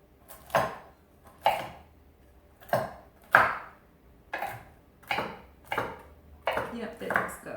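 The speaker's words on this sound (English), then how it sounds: "I don't want to chop them too much" Walnuts being chopped with a knife on a board, with about nine distinct thudding, clattering chops at an uneven pace, close and fairly loud, alone without talk.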